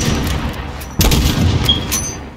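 Sniper rifle fire in Call of Duty: two sharp, loud gunshots about a second apart, each with a booming low tail over a constant game background, with no talking.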